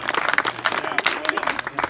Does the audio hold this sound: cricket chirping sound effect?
no